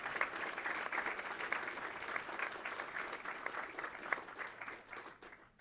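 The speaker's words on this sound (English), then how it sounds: "Let's give all of our student innovators and coaches a big round of applause." Sustained, fairly soft applause for student innovators and their coaches at a competition finals, many hands clapping evenly before tapering off at the end.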